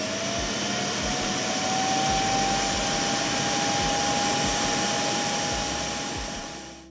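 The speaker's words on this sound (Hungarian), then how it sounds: "amikor a dokkolója kiszívja belőle a koszt, annak olyankor olyan hangja van, mint egy rendes nagy porszívónak turbo módban" A Tapo RV30 Max Plus robot vacuum's dock empties the dustbin with a loud, steady suction roar and a rising high whine, running about seven seconds before tapering off.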